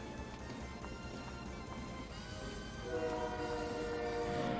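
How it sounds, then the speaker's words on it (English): A train passes in the video game Valkyrie Profile, a dense rumbling clatter that swells louder midway, with a sustained horn-like tone rising over the noise toward the end. "Comes the train."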